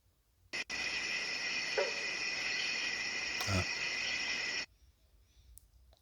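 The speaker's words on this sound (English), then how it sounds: "that first thing that you heard was a frog. And there you had the wood knock." A steady, buzzing frog call drones for about four seconds outdoors at night in West Virginia, with a single hollow wood knock sounding partway through, faint and distant.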